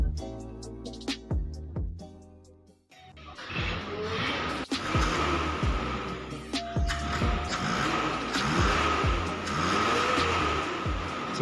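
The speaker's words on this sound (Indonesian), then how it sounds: "akhirnya suara mesin sudah kembali normal dan mesin sudah tidak pincang lagi" A car engine, running normally again after repair at a workshop, hums and revs through several rising and falling sweeps, fairly close and clear, after a short stretch of tonal sound at the start.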